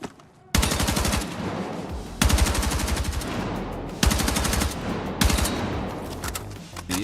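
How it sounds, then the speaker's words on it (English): An AK-205 assault rifle in the video game Battlefield 6 fires long sustained full-auto bursts, four strings of rapid rattling shots separated by brief breaks, loud and close with no talking. "The AK-205 is one of the few guns that have basically no boom"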